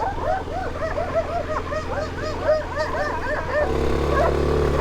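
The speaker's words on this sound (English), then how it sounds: "Oh, and there's a dog." A dog yips and barks in a quick run of repeated high calls over a steady engine drone while riding through snow in Morocco, with the barking fading as a deeper rumble takes over near the end.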